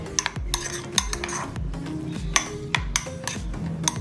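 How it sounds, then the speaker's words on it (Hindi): A spoon repeatedly scrapes and clinks in a bowl while chopped tomato and finely cut cabbage are mixed into a paste, an irregular run of close stirring knocks and clatter with no talking. "टमाटर के ऐड करेंगे और बंद गोभी जो हमने बारीक कटी हुई है, बिल्कुल एक मिकदार में हम इसको अच्छे से हम मिक्स कर लेंगे।"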